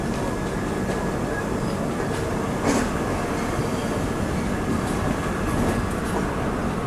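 Duronto Express train from Howrah to Mumbai rolling over India's double diamond rail crossing near Nagpur, a steady loud broadband rumble of wheels on track with faint clatter, no talk.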